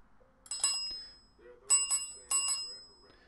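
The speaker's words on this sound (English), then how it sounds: "Bell." A bicycle-style bell dings in three separate bursts of quick double rings, close and bright with decaying metallic tones, and brief voice sounds between them.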